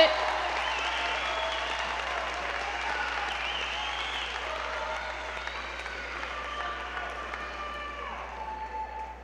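A graduation ceremony audience for the class of 2015 applauds steadily for about nine seconds, with dense, even clapping from a large crowd that fades slightly toward the end.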